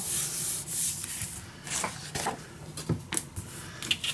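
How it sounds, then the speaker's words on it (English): Paper on a handmade mini album is burnished down by hand in short, uneven rubbing strokes, with soft scuffs and light taps at close range and no talking. "Burnish it down."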